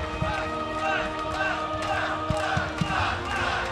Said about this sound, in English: The crowd chanting Flash as he moves on to the semis